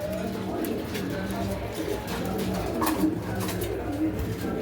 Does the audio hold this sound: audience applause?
no